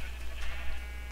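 A sheep in the video game Minecraft gives a single short bleat, fairly faint over a low steady hum.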